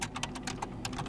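Quick keystrokes on a computer keyboard, typing commands into a Linux terminal, a rapid irregular run of close, crisp clicks with no voice.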